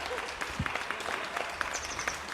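Clapping from an audience at an Awadhi-language comedy show, scattered and moderate in loudness, with a brief low thump partway through.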